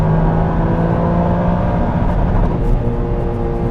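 Toyota GR Yaris engine fitted with an Eventuri intake, running steadily on a dyno at around 4,500 RPM, a loud continuous drone with a constant tone that barely changes, heard alone.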